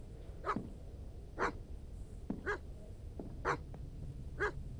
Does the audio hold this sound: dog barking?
yes